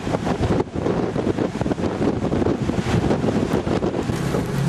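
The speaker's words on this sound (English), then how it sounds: "That's how much it's raining." Heavy rain hammering on a car roof and windscreen in the Grampians, a dense, loud, steady drumming wash that continues for the whole stretch with no voices.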